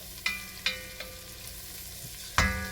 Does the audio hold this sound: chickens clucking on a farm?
no